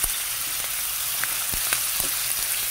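Mussels sizzling in a frying pan with ginger, a steady bright hiss of hot oil with a few soft clicks and pops, close and alone without any voices.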